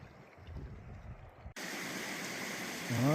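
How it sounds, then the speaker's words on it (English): Steady rushing water of a small mountain creek at a trail crossing between Slide Rock Lake and Lodgepole Lake, quieter at first, then jumping to a louder, close, continuous wash. "here's another little creek crossing between Slide Rock Lake and Lodgepole Lake"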